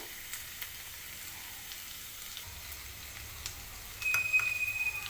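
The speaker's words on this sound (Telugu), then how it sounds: "ఈ ఉల్లిగడ్డ కొంచెం వేగితేనే వేగిన తర్వాత తోటకూర వేసుకోవాలి" Onion frying in a pan with ginger paste before amaranth greens go in, a soft continuous sizzle near the pan that swells louder toward the end, with no voices.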